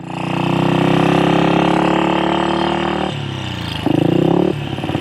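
A 1966 Royal Enfield Continental GT250 motorcycle revs loudly as it pulls away, then the engine note drops and rises again with gear shifts, a close, buzzy single-cylinder drone throughout.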